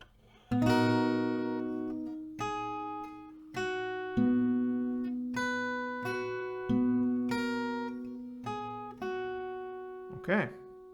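Acoustic guitar picking a chord pattern, clear plucked notes ringing out one after another in a slow steady rhythm, close and alone.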